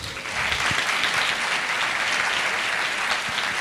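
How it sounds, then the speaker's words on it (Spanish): An audience at a conference on the perception of mystery applauds steadily after the talk, a sustained even wash of many hands clapping at moderate loudness throughout. "Un aplauso, por favor."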